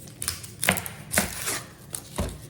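A slightly dull kitchen knife chopping a large onion on a board for onion rings: five or six distinct, irregularly spaced thuds with crisp snaps, close and clear against a quiet room.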